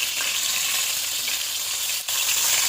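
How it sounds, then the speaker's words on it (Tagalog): Marinated food frying in a pan, a steady loud hiss of sizzling oil with crackle throughout and a brief dip near the end, with no voices. "prito ko. Nakamarinade na yan yung isang araw pa"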